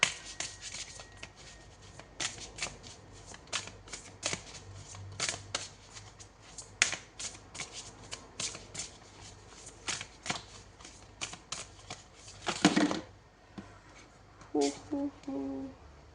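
Oracle cards being shuffled by hand in a series of quick riffling, flicking bursts with short pauses between them, close and fairly quiet, with no talking.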